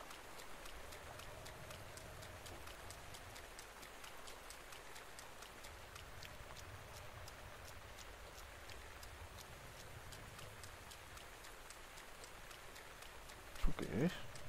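Steady rain falls in Zelda: Breath of the Wild, a soft continuous hiss running throughout, with a sharper clatter of game sounds near the end and speech-like voice activity mixed in.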